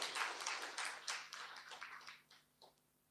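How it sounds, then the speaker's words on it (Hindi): An audience clapping at a spiritual class in Madhuban, a light patter of many hands at moderate volume that thins out over a few seconds and fades to a few last claps. "ताली बजाओ ना जरा अच्छी तरह से।"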